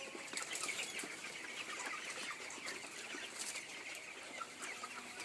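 Chickens in a winter poultry shed cluck steadily, with repeated bursts of wing flapping scattered through a dense, continuous flock din, moderately close and without talk.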